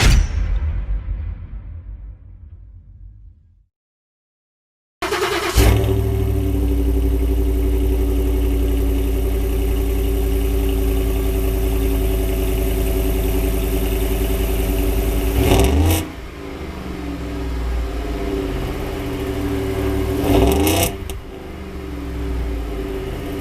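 A Ford F-150 truck with an old air filter idles steadily after a brief silence, a loud, even low rumble with a couple of short throttle blips near the end, close to the engine.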